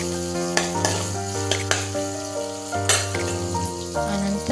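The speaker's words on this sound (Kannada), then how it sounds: "ಸ್ವಲ್ಪ ಈರುಳ್ಳಿ ಬಾಡಬೇಕು." Onions frying in a pan, a steady sizzle with clinks of a utensil stirring against the metal and a strong hum running underneath.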